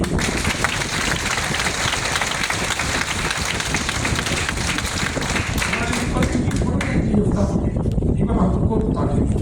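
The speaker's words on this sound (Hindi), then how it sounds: "एक बार इनके लिए ताली बजाइए।" A seated audience gives loud, sustained applause for a participant at a training program in Ludhiana, dense clapping that thins out toward the end.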